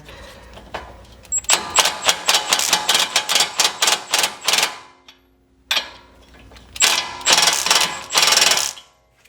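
A hand ratchet tightens the tie rod on a Porsche Cayman 987, giving two runs of rapid, close, evenly spaced clicks separated by a short pause.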